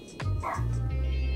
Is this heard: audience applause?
no